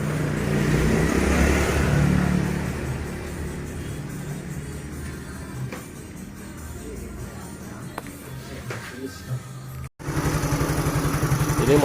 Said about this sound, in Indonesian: Ini motor hidup guys